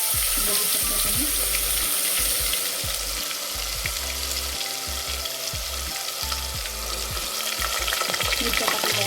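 Cumin seeds and ginger-garlic paste sizzle and crackle in hot oil in a pan, with steady frying hiss and occasional scraping stirs, no voices over it.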